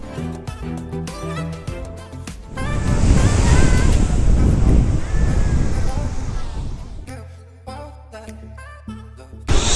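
Heavy surf crashes at Broken Bay on Nusa Penida as a loud, roaring wash that swells and then slowly fades. Music plays briefly before and after the surf.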